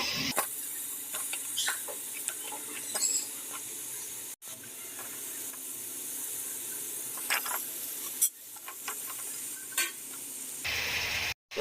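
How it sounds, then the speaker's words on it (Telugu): Chopped vegetables tumble into ginger and garlic frying in a pan, raising a steady close sizzle with repeated scraping stirs and clatter, a brief pause midway, no talk. "మనం కట్ చేసుకున్న కూరగాయలన్నీ కూడా యాడ్ చేసుకుందాము"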